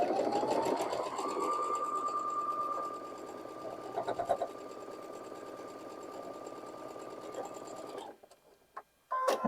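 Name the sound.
sewing machine stitching a quilt block seam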